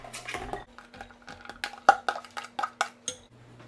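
Cooked ground beef tipped into a crockpot with a spoon, giving a run of small, close clinks and scrapes against the pot at an uneven rhythm, with no voices.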